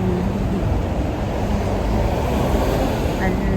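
Wind blows steadily outdoors on a walk to a restaurant, a loud, continuous rushing roar buffeting the microphone without any break for the whole stretch.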